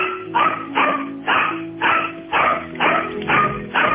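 A dog barks repeatedly at a steady pace, about eight loud, close barks with brief gaps between them.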